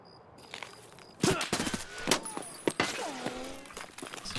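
Gunfire in Escape From Tarkov on the Customs map: scattered sharp shots and short bursts at moderate distance, irregularly spaced, mixed with a voice speaking.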